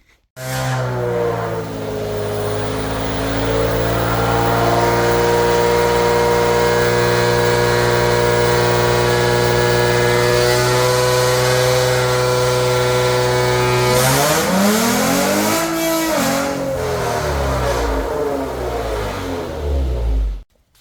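A car with a 3.6 Pentastar engine, turbocharged and sounding straight-piped, revs hard on a dyno: a loud, steadily climbing engine roar held for many seconds, then a drop and a brief rising-falling rev before cutting off.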